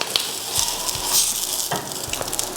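An egg frying in a pan for avocado toast, a close, steady sizzle with small crackles and pops and no talking.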